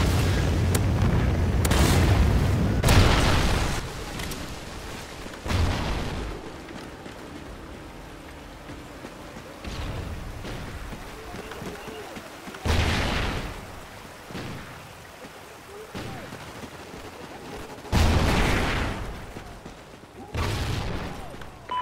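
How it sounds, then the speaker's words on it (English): Trinity rocket strikes in Call of Duty Ghosts land one after another, heavy booming explosions at irregular intervals, each a loud burst with a rumbling tail that settles into a low, mechanical background between hits. "Friendly Trinity rocket inbound."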